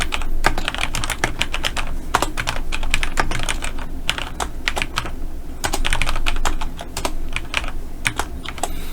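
Rapid typing on a computer keyboard while filling in an Excel spreadsheet for an ITQ exam exercise, a steady run of close, crisp key clicks with brief pauses and no talking.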